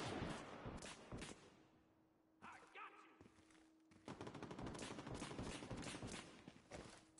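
Rapid, loud gunfire in the co-op shooter video game Division 2, including sniper rifle shots, dense bursts with a brief lull before the firing resumes amid game noise.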